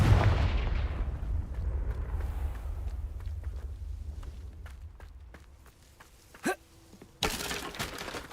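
A fiery blasting spell in Hogwarts Legacy: a heavy boom that decays into rumbling crackles, then a sharp pop and a second burst of blasting noise, with scattered footstep-like ticks between.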